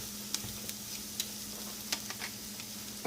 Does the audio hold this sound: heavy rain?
no